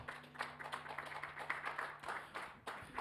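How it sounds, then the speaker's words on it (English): Audience applause at a folk music festival, a dense patter of clapping that holds steady for several seconds, moderately quiet and heard from within the room. "I wasn't sure we'd have any applause in here today."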